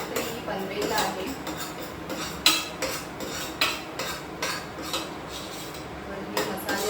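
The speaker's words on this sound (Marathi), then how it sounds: "तर हे मसाले आपण आता एकजीव करून घेऊया. चांगले तेलावर परतवूया." A metal spoon scrapes and clinks against a pan as mixed masala spices are stirred into hot oil, giving a quick, uneven series of close clatters and taps while someone talks.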